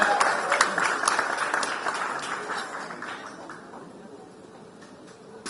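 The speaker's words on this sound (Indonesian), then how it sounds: "Boleh kita kasih tepuk tangan sekali lagi buat Pak Ahok." A crowd applauds again for Pak Ahok at a question session with young voters, a fairly quiet patter of clapping that starts fuller and gradually fades away.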